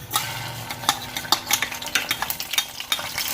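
Cumin, mustard and fenugreek seeds frying in hot oil with a soft crackling sizzle, stirred by a utensil that scrapes and taps the pan in irregular strokes, close and fairly quiet.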